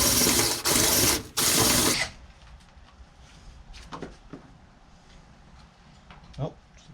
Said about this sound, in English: Now we're going to drill it from out here.